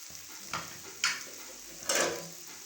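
Potatoes with green chilies cook in a pan, with a soft sizzle and three sharp stirring scrapes spaced about a second apart, heard close and quietly with no one talking.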